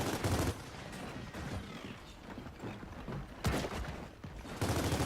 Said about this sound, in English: Enforcer getting shot in there.